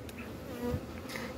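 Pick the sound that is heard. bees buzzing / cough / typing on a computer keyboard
bees buzzing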